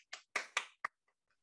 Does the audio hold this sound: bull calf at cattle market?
no